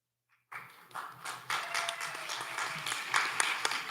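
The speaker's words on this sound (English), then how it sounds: "let's give one more big round of applause for all the participants" Audience applause at the 2025 ACE graduation and awards ceremony, starting abruptly after a brief silence and building into steady, dense clapping from a crowd, swelling slightly louder toward the end.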